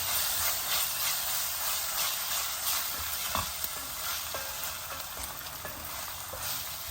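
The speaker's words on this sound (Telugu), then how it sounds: "ఇప్పుడు ఈ అల్లం వెల్లుల్లిపాయ వేస్ట్ పచ్చి వాసన పోయే వరకు వేగాలండి" Ginger garlic paste fries in a pan for palak paneer, giving a continuous loud, bright sizzle and hiss with occasional faint scraping from stirring, close up, with no talk.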